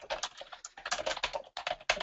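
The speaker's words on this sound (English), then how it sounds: "The typing is really loud." Fast, loud clattering keystrokes on a computer keyboard during an office webcast, in bursts with brief gaps, very close to the microphone and with no talking.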